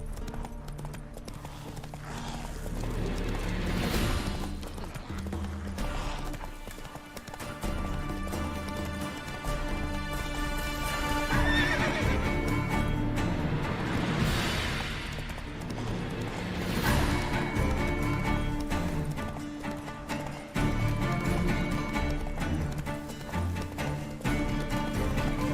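Hooves of the horse Roach pound in a steady galloping clip-clop through The Witcher 3 video game, loud and continuous alongside a layered game soundtrack.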